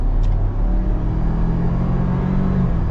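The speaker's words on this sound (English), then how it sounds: "let's see how she does full throttle" A lifted 2021 Ford Bronco Big Bend pulls at full throttle, its engine a loud, steady low rumble with a rising drone heard from inside the vehicle, no talk.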